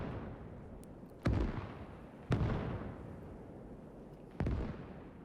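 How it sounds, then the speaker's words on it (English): Artillery fire in the Gates of Hell video game, set in a Battle of the Bulge scenario: three heavy booming blasts land a second or two apart, each trailing off into a rumbling decay over a low background. "Some artillery there."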